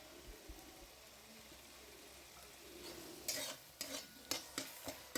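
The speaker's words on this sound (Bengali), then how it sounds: "সমস্ত কিছু আমি ভালো করে নাড়তে থাকবো।" A mixed vegetable masala with tomato paste is stirred in a pan, starting as a quiet sizzle and then breaking into several distinct scraping strokes of the spoon in the last two seconds, close and clear.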